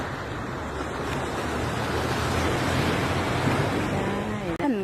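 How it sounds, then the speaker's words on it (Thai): Sea surf rolls and washes steadily along a busy, crowded beach, a dense continuous roar mixed with breezy wind rumble across the microphone, ending with a brief clatter. "มาเที่ยวทะเลกันค่ะ ชมบรรยากาศรอบ ๆ ค่ะ"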